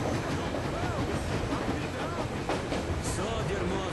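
A moving train in the game Metro Exodus rumbles and rattles steadily at close range, with a voice faintly audible beneath the continuous noise.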